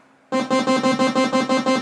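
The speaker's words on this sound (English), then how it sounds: "That's just a normal saw wave." A Korg Minilogue synthesizer plays a plain saw wave preset: a bright, buzzy tone that switches on abruptly after a brief quiet start. It then pulses in a quick, even rhythm of about eight throbs, close and alone.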